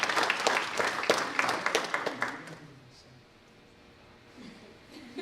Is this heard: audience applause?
yes